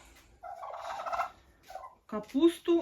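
Turkeys fed cabbage in a farmyard gobble in a few short, fairly quiet bursts, the last calls louder and closer together.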